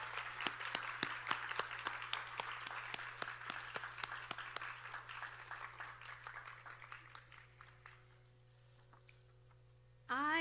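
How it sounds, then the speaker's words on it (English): An audience applauds at an arangetram, a classical Indian dance debut recital. Dense, steady clapping from many hands fades over several seconds, then leaves near quiet. "Another round of applause, please."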